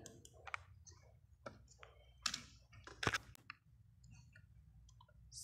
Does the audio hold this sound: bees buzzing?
no